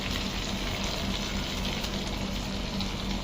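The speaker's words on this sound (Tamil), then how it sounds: "இந்த மாதிரி லைட்டாக தான் ஃப்ரை பண்ணணும்" Fish frying lightly in coconut oil in a pan, Kerala style, giving a steady, even sizzle close up with no talk.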